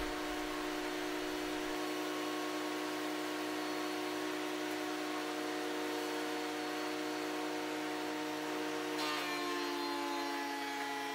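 A loud, steady machine whine with a constant roar throughout, shifting slightly in tone near the end as wood feeds through the planer.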